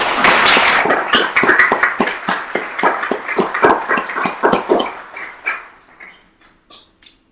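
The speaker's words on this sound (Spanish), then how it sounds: "Un aplauso para ella, por favor." An audience gives a short round of applause at a psychological first aid talk, a dense burst of clapping that thins into scattered individual claps and fades out.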